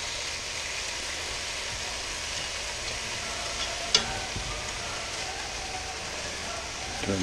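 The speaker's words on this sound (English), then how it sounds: "Get our bacon nicely separated so it can cook individually." Bacon frying in a pan makes a soft, even sizzle that runs steadily and quietly, with a single brief clink partway through.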